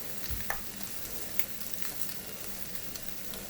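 Leftover broccoli from the night before warms in a frying pan with a steady low sizzle, a few brief clicks and scrapes rising above it, and no voices.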